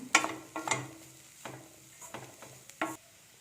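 Chili powder is stirred into spices in a pan while cooking cauliflower chapati filling, a series of separate spoon scrapes and clinks against the pan with faint sizzling between them, close and fairly quiet.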